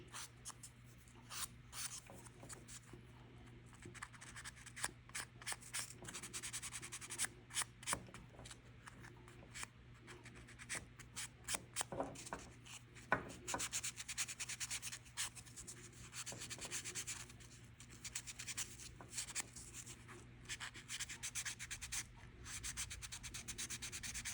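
Soft, continuous scratchy rubbing of a sanding block on a small metal clay earring piece, in short repeated strokes, quiet and close.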